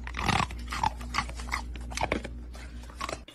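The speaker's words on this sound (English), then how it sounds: "The dog ate it." A dog crunches and chews on an ice cube, with several sharp, close crunches and bites spaced irregularly over a few seconds.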